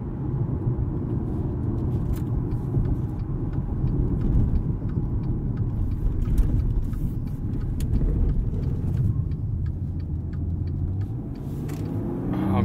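A 2020 Maserati Quattroporte S gives a steady, close engine rumble under way, holding a low drone before the pitch lifts near the end as it downshifts and pulls harder.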